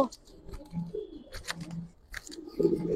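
A domestic Giribaz pigeon coos at a pigeon seller's: soft, low throaty coos repeat in short bursts, close by, with light rustling between calls.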